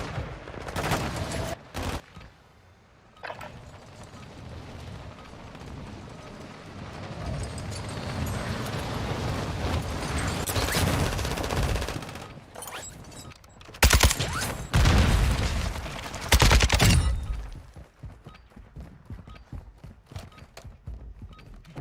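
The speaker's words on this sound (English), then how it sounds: "Taking effective fire." Video game gunfire crackles through a military shooter match as bursts of automatic fire and heavy impacts swell and drop across the scene, with loud clustered volleys near the end.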